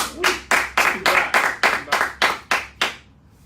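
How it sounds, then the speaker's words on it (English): A few people clap for a speaker in about ten distinct, evenly spaced, close and loud claps that stop abruptly, leaving a quiet room. "Give him a round of applause."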